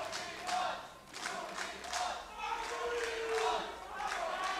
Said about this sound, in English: Finally, the crowd rallies behind the lone Unicorn Yeller.